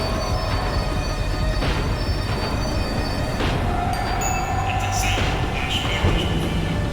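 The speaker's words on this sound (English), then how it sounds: "The tram was slowing down, and I'd only just gotten on board." A tram in the video game Max Payne 3 rumbles steadily as it slows down, with metallic squeals and screeches rising over a loud continuous rolling noise.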